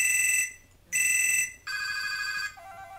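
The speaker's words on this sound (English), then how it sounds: "I'm always playing with ringtones on a new phone." A new phone rings out with bright electronic ringtones, several short bursts of repeating tones with brief gaps between them, loud and close, no talking over them.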